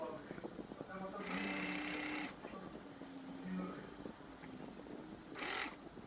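A sewing machine stitches a lining strip onto the back of a blouse at the waist, running in two short bursts of rapid whirring. Someone talks between and over the runs.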